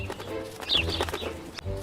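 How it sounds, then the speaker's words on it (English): Small birds flying in and cooing in a children's rabbit story, with a brief chirping call and soft fluttering over a low steady background, close and moderately loud for about two seconds. "Some birds flew over to Peter."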